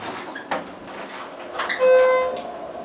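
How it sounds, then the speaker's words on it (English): A Schindler 330A hydraulic elevator door at a Courtyard Marriott in Waldorf, MD, that works poorly, heard close as a couple of thuds and a sliding rumble, followed by a short steady electronic tone. "Door doesn't work well."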